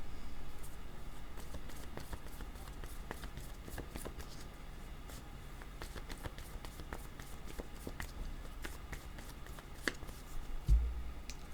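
Tarot cards being shuffled by hand before a draw, a steady soft riffling and slapping texture running throughout at low level, with a brief louder knock near the end and no talking.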